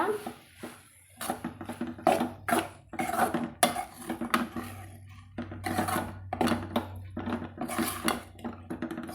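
A utensil repeatedly scrapes and clinks against a pan while soaked poha is stirred together with tomato, giving irregular metallic strokes and brief pauses.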